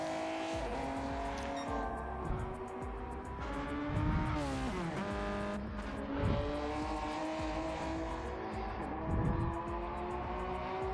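Race cars roar through the final corners of a championship series race, engines droning steadily with pitch dips and swells as they brake and accelerate, a continuous loud buzzing pack of cars with faint tire noise.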